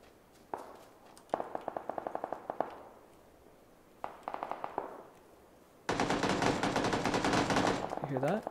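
Video-game gunfire: bursts of rapid automatic shots from a rifle, one short volley, a longer rattling burst, then another, followed by a sustained heavy barrage of shooting, fairly close and loud.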